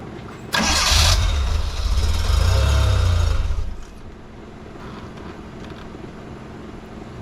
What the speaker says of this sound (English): Spin the motor.